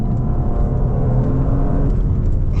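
Audi RS4 Avant, a 2025 model, driving over a bumpy road section, a continuous loud, close low rumble of engine and tyres with slight bouncing thumps throughout and no talk.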